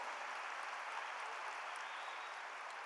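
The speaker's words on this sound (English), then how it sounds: "Please give them a round of applause." Applause from a graduation crowd at Coronado High School's 2019 ceremony for its graduating students: a steady, even wash of clapping, distant and fairly soft, with no break.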